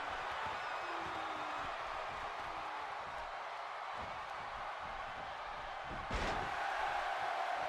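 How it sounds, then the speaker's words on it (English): Raucous crowd noise in the WWE 2K17 wrestling game, a steady dense roar of cheering fans with a sharp thud from the ring near the end. "This crowd still at a raucous kind of volume"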